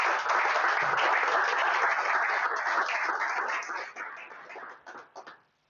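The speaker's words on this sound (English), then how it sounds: "Give another round of applause." Audience at an incubator demo day giving a round of applause, a dense, lively burst of clapping that holds steady, then thins into a few scattered claps before stopping.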